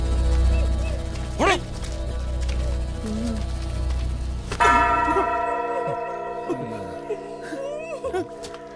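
A church bell tolls to announce a death, a resonant strike at the start followed by a clear ringing peal with long sustained overtones, while pigeons coo faintly in the background.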